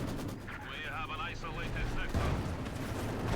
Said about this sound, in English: Another big flashy explosion.